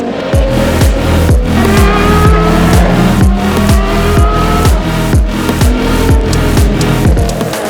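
Hypercar race cars lap during a qualifying session, a loud continuous stream of high-pitched engine notes sweeping past and changing gear, with tires squealing and cars passing one after another.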